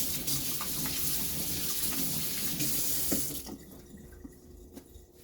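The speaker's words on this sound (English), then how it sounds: "Let me give my hands a wash again." Hands are washed under a running kitchen tap, a close, steady hiss of water with small splashes that cuts off sharply after about three and a half seconds, leaving quiet room tone.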